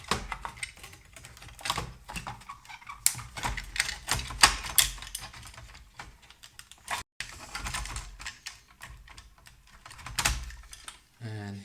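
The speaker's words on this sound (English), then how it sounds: "let's try to remove these 2 screws located right here" Small screws being undone inside a Bang & Olufsen Beomaster 3500 receiver, with close, irregular clicks, taps and scraping of a screwdriver working on the input board, steady and busy throughout with a brief gap near the end.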